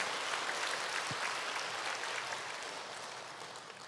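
A church congregation at a Wednesday morning service gives welcoming applause for visiting guests, a soft, steady wash of many hands clapping at a distance that slowly fades.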